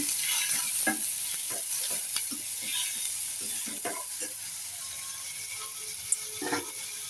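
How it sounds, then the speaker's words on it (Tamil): Onions, garlic and karivadagam sauté in a pan, giving a steady close sizzle with scattered scraping stir strokes and clicks throughout. "ஒரு 2 நிமிஷம் வதங்கட்டும்."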